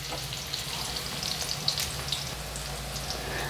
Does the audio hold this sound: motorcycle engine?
no